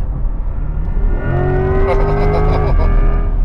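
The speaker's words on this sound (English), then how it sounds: "you hear that roar in the rear, but now you hear a whine in the front" Corvette C8 E-Ray hybrid revving, a loud rear engine roar blended with a whine from the front electric motor, rising in pitch as it accelerates and holding steady, with no talking over it.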